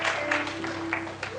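A church congregation claps and cheers in acclaim of the Lord during an Easter sermon, a dense, continuous wash of applause with rising bursts, carried over a steady low electrical hum from the sound system.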